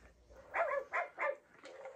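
A robotic toy dog gives four short electronic barks in a quick uneven series, fairly quiet and close, with no talking.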